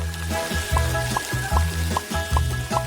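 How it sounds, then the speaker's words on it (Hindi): Cut tortilla pieces fry in hot oil for nachos, a loud, close, steady sizzle broken by regular rhythmic pulses that sound like stirring or moving the pieces in the pan, with no speech. "कटा हुआ टॉर्टिया सुनहरा भूरा होने तक तलना है"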